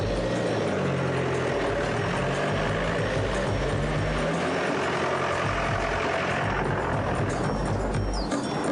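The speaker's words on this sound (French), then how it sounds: "moteur en route." An engine runs steadily nearby after starting, a dense continuous rumble with low throbbing tones that stays constant throughout, with no talk over it.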